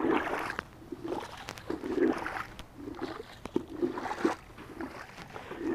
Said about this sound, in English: Then you rinse it the same way.